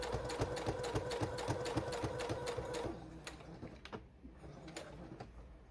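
A sewing machine back-stitches a seam on a small fabric sanitizer holder. A fast, even run of stitching plays close for a few seconds, then gives way to quieter clicks and handling noise.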